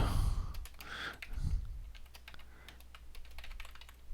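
Typing on a computer keyboard while entering simple program code, a steady run of close, crisp key clicks continuing throughout with a brief low thump near the start.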